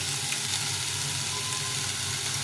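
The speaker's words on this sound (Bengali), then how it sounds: "এখন দিয়ে দেবো এই বাটা মশলা এটা আদা জিরা লঙ্কা বেটে রেখেছিলাম এই মশলাটা দিয়ে দেবো" A paste of ground ginger, cumin and chilli fries in hot oil with a steady, close sizzle that holds evenly throughout, with no voices.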